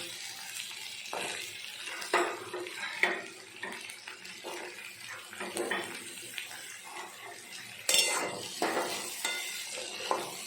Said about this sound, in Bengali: আলুটা একটু ভাজা ভাজা হয়ে গেছে, এর ওপরে আমি ঝিঙে আর ডাঁটাটা দিয়ে দেবো।